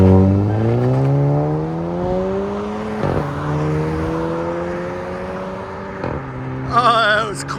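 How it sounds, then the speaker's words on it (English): A 2.0-litre turbo Audi A3 Quattro with high-flow cats drones loudly and close, its engine note climbing steadily through the revs with two sharp blips along the way, then a brief higher whirring burst near the end. "Audi A3 Quattro high flow cats."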